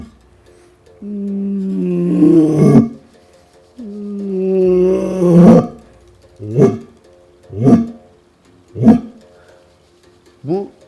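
A man uses a handheld device to imitate a lion's territorial roar: two long, deep, groaning calls followed by four shorter grunting pulses in a slowing rhythm, loud and close.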